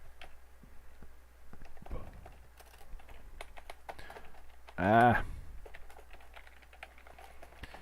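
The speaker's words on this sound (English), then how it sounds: "You ever get so used to typing with your keyboard in a specific place" Computer keyboard typing during a Java coding session: a steady run of light, close key clicks with one louder burst of keystrokes midway.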